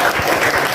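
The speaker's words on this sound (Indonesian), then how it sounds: "Kita beri aplaus." A lecture-hall audience of students claps in a short, dense burst of loud, close applause.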